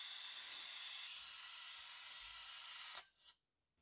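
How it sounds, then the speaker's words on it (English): Steady hissing spray as brake fluid is drawn out of a BMW Z4 35is E89 brake caliper during bleeding, a continuous airy rush lasting about three seconds, ending with a sharp burst and a short sputter before silence. "And it started to extract fluid."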